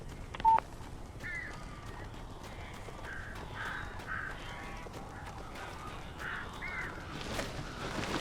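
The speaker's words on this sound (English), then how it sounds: "These birds are weird." Crows cawing in the video game Alan Wake Remastered: a series of harsh, repeated caws at a moderate distance over a quiet, low ambient background, with a brief electronic beep near the start.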